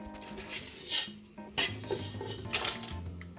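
Kamarkas (edible gum) fries in a pan, with a low sizzle under the repeated clink and scrape of a metal spoon stirring against the pan.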